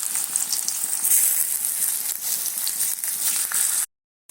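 Potato pieces frying in hot oil, a loud, dense, continuous sizzle close to the pan that cuts off abruptly near the end.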